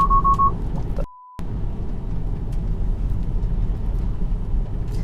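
A Tesla Model 3 (2021) sounds a short, steady electronic collision-warning tone while driving on a foggy road, standing out clearly above the constant low hum of the car cabin, with a brief beep at the start.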